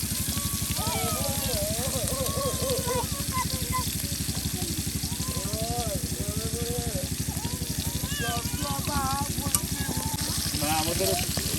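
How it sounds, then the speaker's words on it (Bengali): Big pangas fish frying in a pan at a riverside outdoor cooking spot, a steady close sizzle running throughout beneath chirping birds, with a person talking over it. "এদিকে কিন্তু মাছ ভাজা হচ্ছে, একদম সুন্দর করে কিন্তু মাছগুলো ভেজে ভেজে নেওয়া হচ্ছে।"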